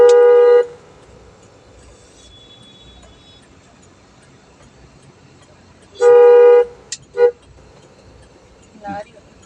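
A car horn honks twice, two sustained blasts several seconds apart, over quiet engine hum, followed by a couple of brief clicks and a short voiced sound.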